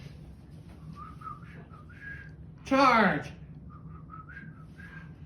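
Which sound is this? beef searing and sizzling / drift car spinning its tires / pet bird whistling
pet bird whistling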